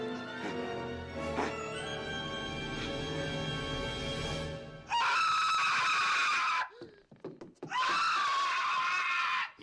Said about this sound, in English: Shown by this scene here where he gives off an amazing scream.